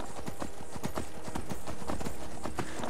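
Horse hooves clip-clop in a quick, even rhythm in the video game Skyrim, a steady close patter of hoofbeats with a faint neigh-like tone and no talk.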